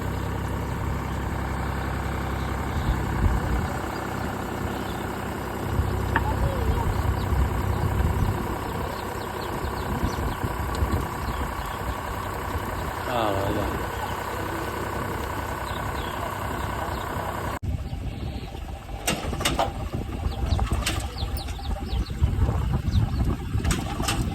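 A tractor engine idles and runs steadily nearby while tipping a trolley load of fill at a site being prepared for a Ram Katha stage at Gopnath, with a change in the engine sound partway through and birds faintly audible.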